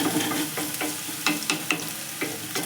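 Fried rice sizzles in a pan as it is stirred, a steady hiss of frying broken by regular scraping strokes about every quarter second, close and clear with no talk.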